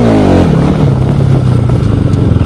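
A Bajaj Pulsar RS200 BS6 motorcycle engine revs up loud and close, its pitch sweeping upward then holding a steady high drone, with no talk over it.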